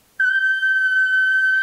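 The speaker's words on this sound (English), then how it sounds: "So I hope this helped you a little bit to clarify what the whistle register actually is and how it's produced" A singer holds a single very high whistle-register note, a pure steady tone sustained for about a second and a half, clear and close with no other sound.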